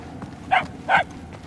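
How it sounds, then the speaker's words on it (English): Two short dog barks from a hound in the Guardians of the Galaxy video game, moderately loud against a quiet low ambient background. "The barks are getting louder,"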